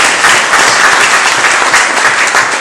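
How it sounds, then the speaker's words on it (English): Wedding guests burst into loud, steady applause for two people named Katie and Emma, a dense wash of clapping hands held at even strength throughout with no break. "let's give them a clap"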